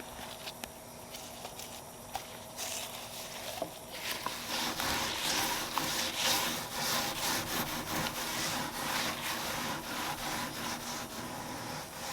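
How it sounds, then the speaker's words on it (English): Old finish being scraped and scrubbed off a wooden dining buffet with mineral spirits, a faint scrape at first building into steady rough rubbing strokes, close and without talking. "I'm going to scrape it all off, and then I'm going to scrub it all off."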